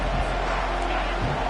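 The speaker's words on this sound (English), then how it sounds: "This crowd bringing an ear-splitting welcome to their visitors." A stadium crowd roars at a football game, a dense, steady wall of broadband noise that holds loud and unbroken throughout, with faint voices blended in.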